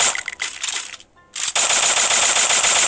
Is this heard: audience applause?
no